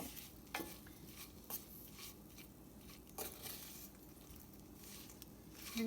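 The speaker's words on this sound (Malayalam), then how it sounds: "അങ്ങനെ ഒന്ന് മിക്സ് ചെയ്യാം." Okra and onion are stirred gently in a pan for a Kerala-style okra stew, soft scraping strokes recurring every second or so over a faint sizzle, quiet and close.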